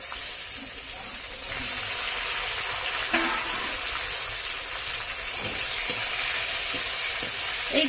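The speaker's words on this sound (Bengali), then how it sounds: "এইগুলো এখন আমি ভালো করে লাল লাল করে ভেজে নেব।" Chopped onion and tomato fry in a pan with a loud, continuous, close sizzle, broken now and then by soft stirring knocks. No one speaks.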